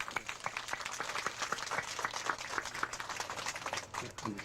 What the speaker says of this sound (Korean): 박수 한번 하십시오.